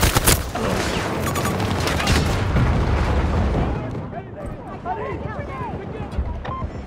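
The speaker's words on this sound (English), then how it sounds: "Grenade! Get down!" A grenade goes off in the Battlefield 2042 shooter game, one heavy boom with a rolling rumble inside dense battle noise and gunfire, while voices call out over the din.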